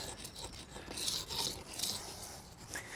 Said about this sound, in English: I'm just going to rub it back, get that hard edge off.